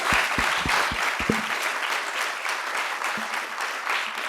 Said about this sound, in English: let's show some love and give a big round of applause to Dr. Burke Harris